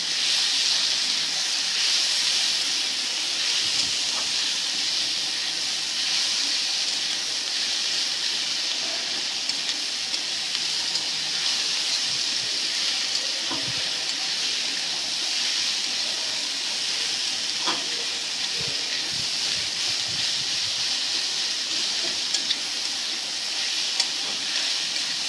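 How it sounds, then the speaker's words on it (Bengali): Garlic and ginger fry in oil in a pan for a chicken mint dish, giving a continuous bright hiss with occasional small crackles and no talk. "রসুনটাকে ভালো করে ভেজে নেবে।"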